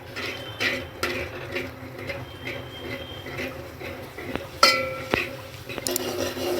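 Yogurt being stirred into masala in a pan over medium heat for dahi aloo sabzi, with soft scraping and clinks of a spoon against the pan, steady and close with a few sharper knocks.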